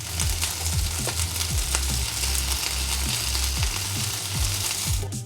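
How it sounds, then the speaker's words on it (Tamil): Chicken fries in a little oil in a pan with a steady, dense sizzle, broken by repeated scraping and clicking strokes of a spatula, close and loud throughout, with no voices. "அந்த சிக்கனை கொஞ்சோண்டு எண்ணெய் ஊற்றிக்கிறேன்"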